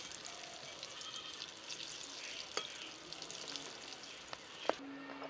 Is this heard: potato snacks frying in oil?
yes